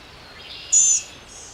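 Blue-gray gnatcatcher at a low nest giving strange little calls: one thin, high, nasal note, then a fainter trailing one, against quiet outdoor background.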